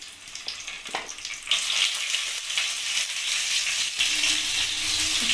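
Eggplant and other vegetables drop into hot tempering oil in a kadai, a quieter crackle that jumps to a loud, close sizzle as pieces hit, followed by stirring clinks and a continuing hiss.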